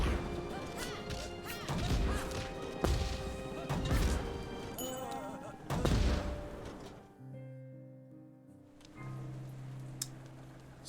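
Ranged attack shots in the side-scrolling game Curse of the Sea Rats: a series of sharp, punchy impacts at irregular intervals, fairly loud, followed by a quieter stretch of sustained tones, with no talk.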